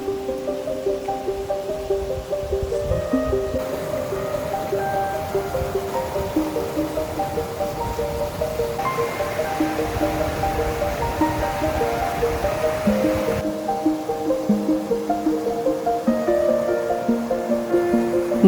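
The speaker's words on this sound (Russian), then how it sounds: "Повсюду бегут ручьи, слева шумит река Дойкиночка." The Doykinochka river in Serbia's mountains rushes in a steady, continuous wash along a hiking trail, with a melodic layer of music running over the water noise throughout.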